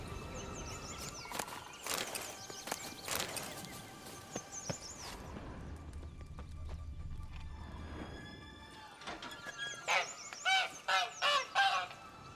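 A caged goose in The Witcher 3 game honks repeatedly in loud, bursty calls, with a dense run of honks near the end and light game ambience in between.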